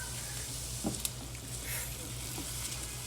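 Tomato sizzles gently in a pan as a pizza topping cooks, a steady, close frying hiss with a few soft stirring taps and no voices.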